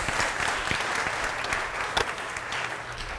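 An audience at a daytime event session claps together, a steady mass of handclaps with a few sharper individual claps standing out, continuing evenly to the end.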